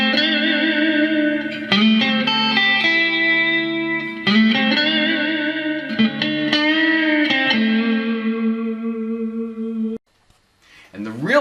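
Strummed acoustic guitar chords through a Yamaha THR5A amplifier with reverb at maximum ring out, each strum washing into long, shimmering tails before the playing stops and the sound fades.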